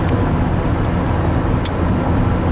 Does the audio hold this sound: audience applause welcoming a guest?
no